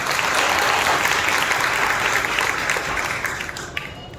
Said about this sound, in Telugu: చప్పట్లు కొట్టి ప్రభువును మహిమపరచు బిడ్డగా